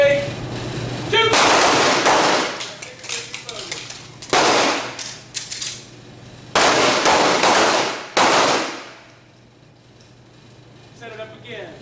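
Handgun shots at a night shooting class, fired in several rapid volleys of sharp, loud, overlapping cracks from multiple shooters, with brief pauses between strings.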